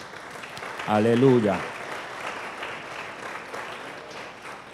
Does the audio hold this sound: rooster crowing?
no